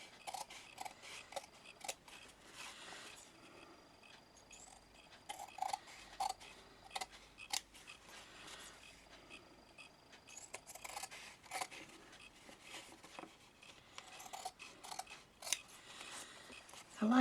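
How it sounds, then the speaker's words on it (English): Scissors trim closely around the edges of a card for a fabric sampler tag, a long run of small quiet snips and ticks close by, steady throughout with brief pauses. "Now I'll just trim around the edges, as close to the edge of the card as I can."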